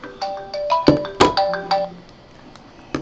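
A phone ringtone plays a bright repeating melodic pattern of tones for about two seconds, fairly close, then stops, leaving a quiet room before a final short tone.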